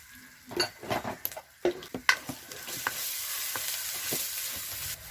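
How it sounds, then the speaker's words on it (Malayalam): Oil is poured into a hot pan of frying beef for Beef Nirvana, setting off a soft sizzle under clinks and scrapes of stirring that start in irregular bursts, then settle into a steady fry, near and moderately loud. "അപ്പോൾ കുറച്ചുകൂടി ഒന്ന് ഓയിൽ ഒഴിച്ചു കൊടുക്കാം."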